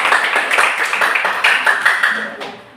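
Classroom applause for a student group during a teaching session, a brief burst of many hands clapping close by that fades toward the end.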